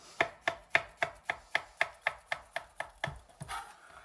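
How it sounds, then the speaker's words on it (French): A knife slices button mushrooms (champignons de Paris) on a board for a Christmas salmon Wellington, about twelve crisp, evenly spaced cuts close up, slowing slightly before a softer shuffle at the end; no talking. "Coupez votre champignon de Paris comme ceci."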